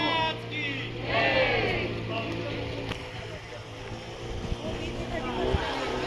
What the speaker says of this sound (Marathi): ही बघा ही आता ना फेरी बोट निघाली